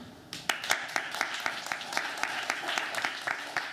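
Scattered, distinct handclaps from a small audience at a community conversation, sparse individual claps picking up into a loose, fairly quiet round of applause for a panel introduction.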